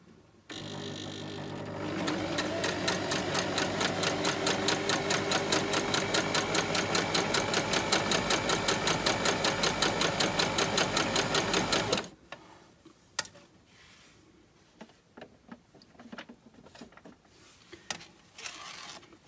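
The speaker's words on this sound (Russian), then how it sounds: "И не спеша шьем." A domestic sewing machine stitches a tulle petticoat for a doll, running at a steady fast rhythmic whir for about ten seconds before stopping, followed by faint handling clicks and rustles.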